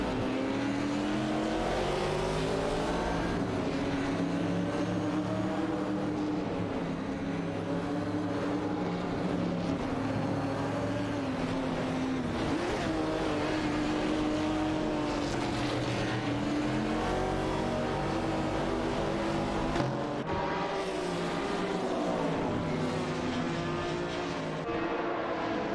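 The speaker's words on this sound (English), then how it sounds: "Now we see Zygo 22 and Nukambokan driving a BIM 154 Chevrolet, engaged in a fierce battle for that position with Greninjib." Chevrolet race cars in a racing video game roar continuously with steady high engine whine, layered revving and gear shifts as several cars battle closely on track.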